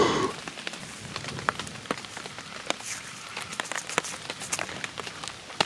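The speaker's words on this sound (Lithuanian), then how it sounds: "Čia kruša, seni! Čia kruša!" Hail pelting down around a bunker under construction, a dense patter of sharp ice strikes and clicks spread across the whole stretch, with a brief rustle at the start and no voices.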